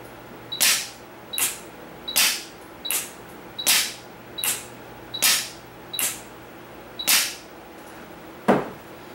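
An Acro Generation 1 pneumatic pinch valve actuating repeatedly: about eleven sharp, close air-driven snaps with short hissing tails, spaced roughly evenly under a faint steady background hum.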